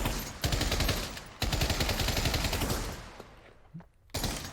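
Sustained full-auto bursts from a WW2-era gun in the Pavlov VR shooter, with two long loud rattling strings of rapid shots separated by a brief pause, then a fading tail and a final short burst.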